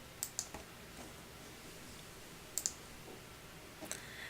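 Quiet computer mouse clicks on a web software setup page: three small groups of sharp clicks, close up, spread over a few seconds against faint room hum.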